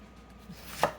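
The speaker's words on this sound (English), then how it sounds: "So you're going to cut your onions." A single knife stroke cuts through an onion on a board, a brief, crisp chop standing out near the end against a faint, quiet background.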